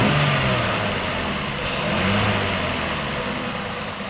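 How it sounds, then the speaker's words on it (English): A Ford 3.5 engine idles steadily, then rises briefly as the gas is pressed once and settles back, heard close and loud with no talk. "Step on the gas for me one time."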